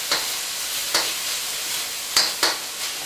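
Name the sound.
octopus tentacles being stirred and sizzling in a pan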